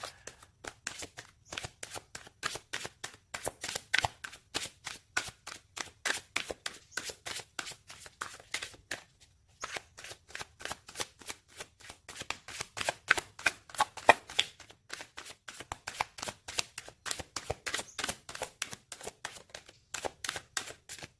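Tarot cards being shuffled by hand, a long run of quick, rhythmic riffling flicks close to the microphone, pausing briefly midway before continuing, with no talking.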